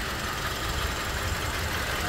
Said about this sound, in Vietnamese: máy nổ khá êm gió nhé,